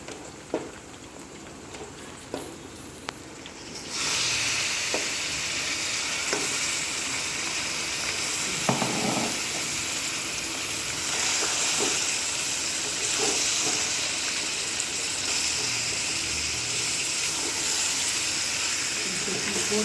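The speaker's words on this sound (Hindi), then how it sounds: "गोश्त डाल के 2 मिनट इसको प्याज के साथ गोश्त को तलेंगे।" Mutton pieces frying in a pan with browned onions and ginger-garlic paste while cooking a Mughlai mutton korma, a steady loud sizzle that swells once the meat goes in, with occasional stirring scrapes and no speech.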